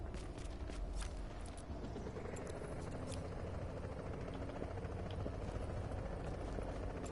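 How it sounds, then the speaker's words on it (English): A helicopter in the video game The Division chops steadily in the background, a continuous rotor drone with scattered sharp clicks on top. "I can hear the chopper actually."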